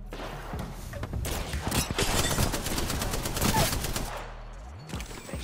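Rapid gunfire bursts fill an Apex Legends battle, dense overlapping shots and loud volleys sustained for several seconds before tapering off near the end.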